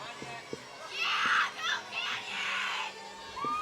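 Spectators lining a Santa Clarita Fourth of July parade route shouting and cheering in bursts, a crowd of mixed voices including children swelling loudly in the middle, with a few sharp knocks nearby.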